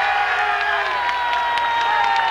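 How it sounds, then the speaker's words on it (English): Roadside crowd at the Giro d'Italia start cheering cyclist Gianni Bugno as he sets off: loud, dense, continuous cheering and shouting with scattered whoops and applause, close and filling the whole stretch. "this popular man, although the press here in Italy would have you think otherwise, is cheered away by the crowd"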